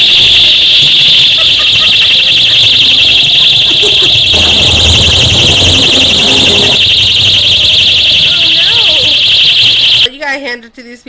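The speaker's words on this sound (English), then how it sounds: "protesters disrupted an event with orange balloons that held releasing alarms" Shrill electronic alarms from orange balloons blare continuously at a protest disrupting an event, a loud piercing tone that cuts off abruptly near the end.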